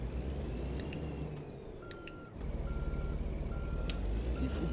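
Repeated electronic reversing beeps from a truck backing up in American Truck Simulator, evenly spaced tones over a steady, loud diesel engine rumble that drops briefly and then resumes.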